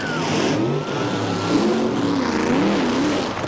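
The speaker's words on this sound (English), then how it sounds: "Just an easy burnout." A nitro funny car doing an easy burnout at a 1990s drag strip, its loud engine roaring and revving in wavering bursts with a rough, growling tone throughout.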